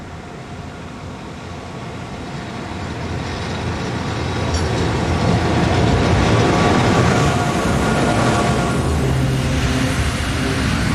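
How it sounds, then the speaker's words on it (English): A convoy of locomotives of four different types rolls into a station from the south, making a steady rumble and rolling noise that grows louder midway and then holds near and heavy, with no speech. "A convoy of locomotives arrives from the south, which includes 4 different locomotive types."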